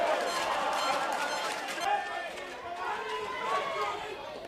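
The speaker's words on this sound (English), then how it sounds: "And listen to this crowd." A baseball stadium crowd roars and cheers after a dramatic fielding play, a dense, sustained wash of many voices with a few louder swells, while a commentator talks over it.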